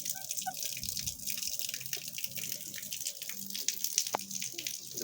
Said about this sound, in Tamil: டேங்க்லாம் தண்ணி நிறைஞ்சி கீழே போகுது.